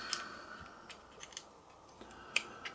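Small scraping and ticking clicks as an anti-burr tool shaves at a plastic model part, faint and close with a few sharper clicks near the end, no talk.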